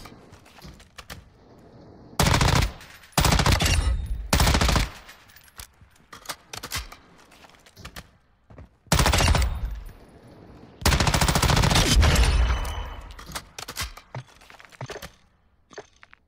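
Gunfire in the Call of Duty DMZ game comes in loud, close bursts of rapid automatic shots separated by quieter gaps with clicks and handling sounds.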